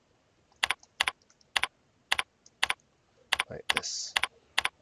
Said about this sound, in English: we type the text we want to see as the name field